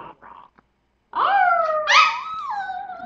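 A pet dog makes a short whining, yelping vocalization with rising and falling pitch, close and fairly loud, preceded by a few faint brief sounds.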